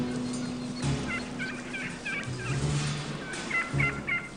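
A male turkey gobbling in the Sonoran Desert, several loud rapid warbling gobbles in quick bursts, close and clear against a low background rumble.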